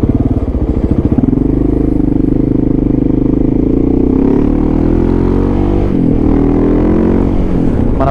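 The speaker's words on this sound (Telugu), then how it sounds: "మన బండి మాత్రం ట్రాఫిక్ దగ్గర ఫస్ట్ గేర్ సెకండ్ గేర్ వేసి గుంజితే మాత్రం ఘోరంగా సౌండ్ వస్తుంది" A motorcycle engine revs hard in low gear in traffic, a very loud close roar with rising pitch sweeps and throttle surges, steady and continuous throughout.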